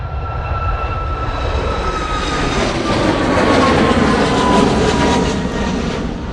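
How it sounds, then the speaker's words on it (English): A Ryanair Boeing 737 MAX 8 departs Manchester Airport bound for Shannon, its jet engines producing a loud, steady roar that swells slightly toward the middle, with no talk over it. "Ryanair 737 MAX 8 departing off to Shannon."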